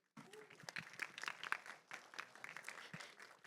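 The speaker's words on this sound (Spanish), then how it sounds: "por favor, un aplauso a todo el elenco" A short burst of scattered applause from a small crowd at a film press conference, with voices mixed in under the clapping.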